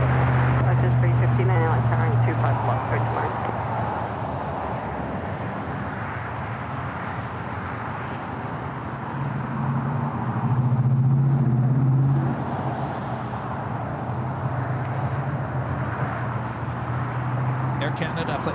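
An Air Canada Airbus A320 at LAX gives a steady, loud jet roar that swells and eases slightly, with a voice talking over it.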